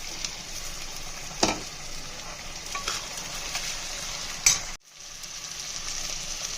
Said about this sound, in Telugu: ఉల్లిపాయ వేగాక ఉడకపెట్టుకున్న రొయ్యలు కూడా వేసేయాలి.